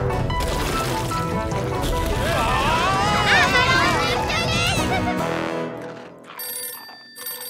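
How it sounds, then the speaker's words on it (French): A telephone rings in a French-dubbed episode of the cartoon Ben and Holly's Little Kingdom, a bright electronic ringing tone heard at the end, after a busy stretch of children's voices and babble. "Quelqu'un peut répondre au téléphone?"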